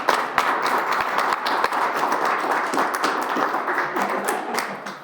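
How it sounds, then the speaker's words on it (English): A small group claps at a city council meeting, a moderate, steady patter of hands with a few sharper individual claps early on, fairly close and without clear talk over it. "Let's give him a big round of applause."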